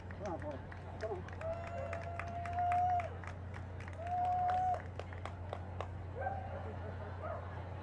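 Brisk clapping rings out at an English Springer Spaniel breed judging show, sharp repeated claps across the scene alongside a dog's barks and yips, with people talking and encouraging calls.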